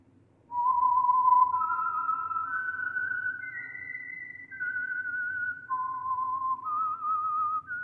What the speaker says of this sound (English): the signal to listen for is this whistle that identifies the Signal Oil program